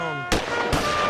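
Two sharp gunshots ring out in a video game, loud and close, spaced about half a second apart and each trailing off into a brief echo.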